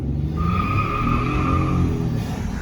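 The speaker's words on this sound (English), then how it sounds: "it is so easy to peel out in this truck." A Ford F150 truck with a resonator delete peels out, its tires squealing loudly over a deep engine roar for about two seconds before fading.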